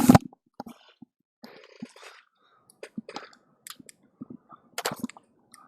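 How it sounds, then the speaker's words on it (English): Shotgun blasts against zombies in a Unity VR video game come as sharp, separate bursts at irregular intervals, one loud at the start and the rest softer, with clicks and quiet gaps in between. "I'll fight one wave off really quickly with the shotgun"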